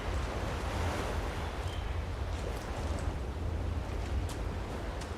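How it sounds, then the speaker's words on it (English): Stormy coastal ambience from the Storm Coast in Dragon Age: Inquisition: continuous surf washing in with gusting wind, a steady, fairly soft wash of noise with no speech. "I love the atmosphere, the ambience here on the Storm Coast."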